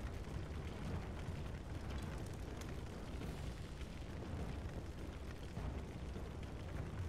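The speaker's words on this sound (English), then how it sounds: "The tower's on fire." A burning tower in The Witcher 2 video game gives a steady, dense roar of fire and rumble, continuous and fairly quiet throughout, with no talk over it.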